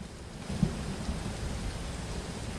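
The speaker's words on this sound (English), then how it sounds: "And it's raining again and no water in the windshield." Steady rainfall in American Truck Simulator, heard as a continuous low hiss and patter with no clear drops standing out. It stays even throughout, with a faint rumble underneath and no voice.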